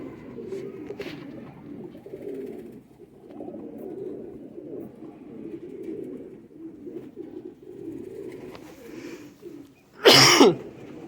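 Teddy Sialkoti pigeons coo in soft, repeated low murmurs close by, with a sudden sharp burst near the end.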